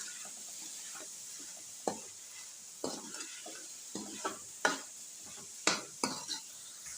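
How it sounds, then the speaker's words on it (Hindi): Lentils and green chilies fry in a pot for a lentil and rice lunch, a soft steady sizzle broken by repeated sharp scrapes and knocks of a spoon stirring against the pot, close and alone. "1 से 2 मिनट इनको भी हम भून लेंगे, फ्राई कर लेंगे इनको भी।"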